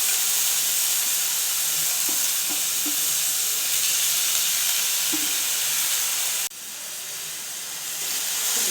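Grated gooseberry and dried red chillies sauté in a pan for gooseberry rice, a steady bright sizzle and hiss with a few soft stirring taps, the sizzle dipping briefly then rising again.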